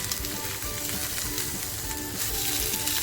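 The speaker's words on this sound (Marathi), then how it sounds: "आपल्याला हे केळीचं पान लाल होईपर्यंत म्हणजे असं खरपच भाजेपर्यंत आपल्याला ही फ्राय करून घ्यायची" Surmai fish fries in a banana leaf in a hot pan, giving a loud, continuous crackling sizzle with dense popping and no pauses.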